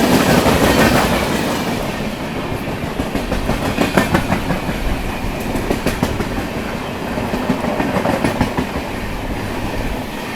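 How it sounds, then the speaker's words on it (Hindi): Dhanbad–LAP Express approaching and running past, a steady heavy rail rumble with repeated rhythmic clickety-clack wheel beats over the joints throughout. "ये सामने से आ रही है आपकी धनबाद से चलकर एलएपी को जाने वाली धनबाद एलएपी एक्सप्रेस"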